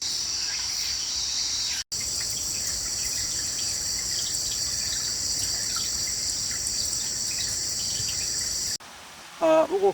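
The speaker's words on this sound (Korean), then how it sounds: "개구리 소리도 요란하고" Dense, loud chorus of croaking frogs, a continuous shrill drone with flowing water beneath in Yongchu Valley near Changwon, South Korea, briefly interrupted, then a voice at the end.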